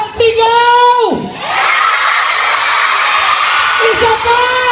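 A crowd of fans at a film screening in Hong Kong erupts in loud, sustained shouting and cheering, with high-pitched whoops rising over a dense roar that dips briefly before swelling again.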